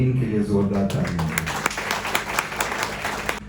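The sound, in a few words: audience applause for History TV 18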